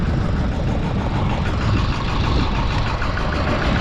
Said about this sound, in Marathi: बुलेटचा पासून ट्रॅक्टर तयार केलेला आहे